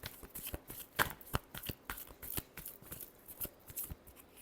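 Tarot cards riffled and shuffled by hand, a run of crisp papery flicks and soft slaps in an uneven rhythm, close and fairly quiet with no talking.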